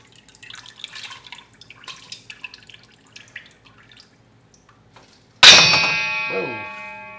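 Udon noodles being rinsed with cold water in a pan: small drips, splashes and light clinks, then a sudden loud metallic clang that rings on and slowly fades.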